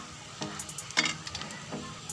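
Onions frying in a pan for spring roll filling, a soft steady sizzle with a few louder stirring scrapes and crackles, near and moderately quiet, no voices.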